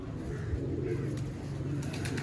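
Fancy pigeons kept by a hobbyist in Haripur, Hazara coo softly in low, repeated throaty notes, close but quiet against a faint background.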